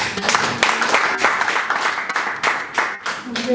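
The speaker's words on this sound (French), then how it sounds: "Sur vos acclamations, s'il vous plaît" An audience claps loudly at a Paris-style event announcing a Zénith concert, sharp irregular hand claps close by and steady throughout, with voices faintly underneath.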